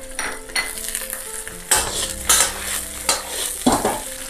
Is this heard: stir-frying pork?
yes